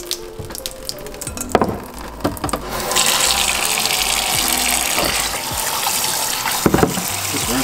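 Tap water runs into a sink while hot dogs from a jar are rinsed, starting with scattered clinks and handling noises before a steady gushing flow takes over; occasional knocks sound near the end.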